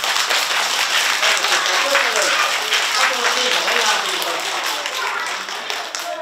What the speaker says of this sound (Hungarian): Egy nagy tapsot a hölgyeknek.